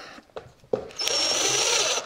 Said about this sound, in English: I do think I will put a couple screws here across the front just to make sure that it stays put